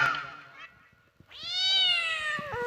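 A black cat meows loudly and close by, a long drawn-out yowl after a shorter earlier cry, heard alone with faint background noise.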